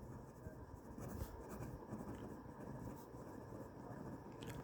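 Chalk or marker scratches across a classroom board in faint, continuous strokes, heard alone at low volume with a hum behind it.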